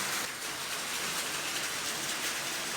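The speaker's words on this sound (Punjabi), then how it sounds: "ਆਪਣਾ ਮੀਂਹ ਵਧੀਆ ਪੈ ਗਿਆ" Steady rain pours down, a dense, even hiss of drops on surfaces with no voices.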